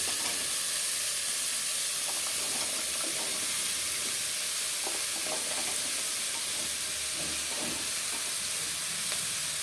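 Chopped raw papaya sizzles and hisses steadily in a hot pan, with soft scraping and stirring sounds throughout, close up.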